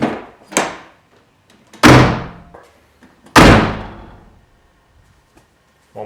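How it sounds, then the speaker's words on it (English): A Toyota MK3 Supra door, window down and with its rattle improved, shuts with two loud close thuds, each followed by a fading ring, with lighter clicks between. "Door closing, window down after some improvements."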